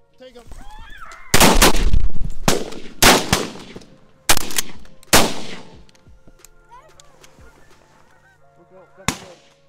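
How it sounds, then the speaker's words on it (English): Loud shotgun blasts ring out in an uneven volley during a Canada goose hunt over chopped corn, with geese honking between the shots and voices briefly audible. "Nice shot, Ernest."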